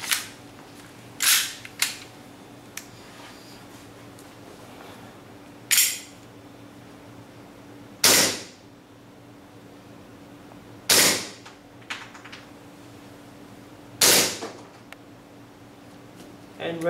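A WE G18C airsoft pistol with steel slide, loaded with .2 BBs and green gas, fires single sharp cracking shots, six or seven spaced irregularly a few seconds apart over a quiet background.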